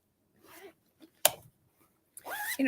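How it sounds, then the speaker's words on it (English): A red zipper on a fabric bag gives a short, sharp rasp, then a longer zipping pull a moment later. Both are close and clear in a quiet room. "This one has a red zipper."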